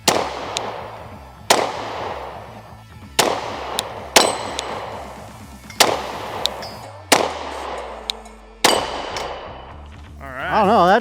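Glock 20SF 10mm rounds strike steel targets at an outdoor range, each shot a sharp crack followed by a ringing metallic clang, about seven spaced hits in uneven succession, loud and close.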